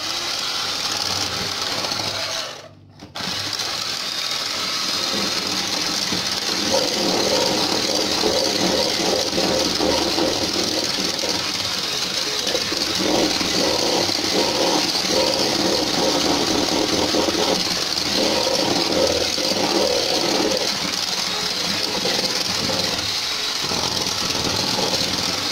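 An electric hand mixer whirs continuously as it beats cake batter, a steady motor drone with a brief cut-out near the start, then running on evenly for the rest of the time.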